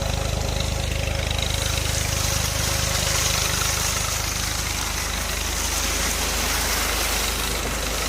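Tractor engine idling steadily in open rural farmland, a continuous low rumble with a broad hiss of outdoor ambience running throughout, fairly close and constant with no talk.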